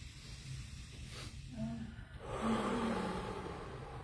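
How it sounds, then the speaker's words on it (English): A group of people draw a deep breath together during a breathing practice session, a broad airy rush swelling partway through over a steady low background, with faint voices. "Deep breath, everyone."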